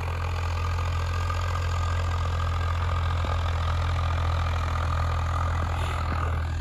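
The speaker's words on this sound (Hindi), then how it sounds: "और लगभग आधे खेत में जा लिया ट्रैक्टर।" A tractor engine drones steadily as the machine drives across a farm field, a constant low mechanical hum with a strong bass rumble, moderately close and unbroken, no voices.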